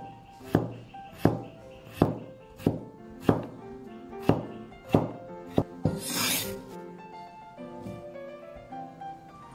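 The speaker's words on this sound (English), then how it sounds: "We will first cut the potato into fingers" Knife chopping a potato into fingers on a cutting board: about nine sharp, evenly spaced thuds roughly every half second, close and clear, then a brief rustle and a few softer cuts.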